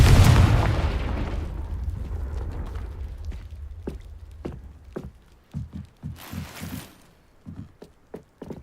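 A fiery Confringo blast spell in the video game Hogwarts Legacy, a loud boom at the start that rumbles and fades, followed by scattered footsteps and thuds.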